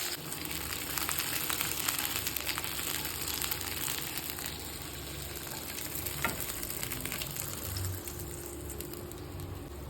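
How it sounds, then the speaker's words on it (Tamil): Eggplant is dropped into a bubbling pan of tamarind kuzhambu, giving a continuous close sizzle and crackle at an even level, with faint stirring noises and no voices. "இப்போ வந்து கத்திரிக்காயை இந்த குழம்புல வந்து போட போகிறேன்"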